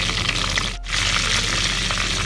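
Curry leaves sizzle in hot coconut oil in a pan, a steady broadband hiss of frying with a brief dip near the start, close and fairly loud, with no talk.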